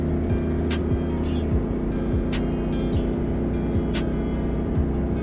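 A truck engine hums in a steady drone, rumbling continuously with low moaning, groaning tones and occasional faint higher whines, heard from inside the truck.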